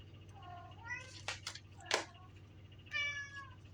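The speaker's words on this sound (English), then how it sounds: "What you doing, kitty?" A pet cat meows indoors, several short, fairly quiet mews with a few soft knocks and rustles between them.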